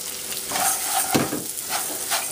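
Rice and apples go into a hot pan with ginger and garlic for braised pork ribs, giving a brief close sizzle with a few stirring scrapes.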